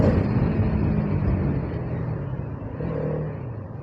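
A KTM Duke motorcycle rides in third gear with a steady, loud engine drone and wind rush throughout, easing slightly midway before building again.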